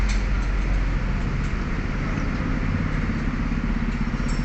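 A 2001 Toyota Corolla Altis engine runs at a steady idle after a fuel pump fix, a continuous close, even rumble with no talking.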